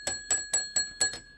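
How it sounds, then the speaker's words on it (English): A bell in a radio studio strikes five times in a steady rhythm, each ring bright and sustained with a lingering metallic tone, close and fairly loud with no talk over it. "The bell. I have no idea whose bell this is"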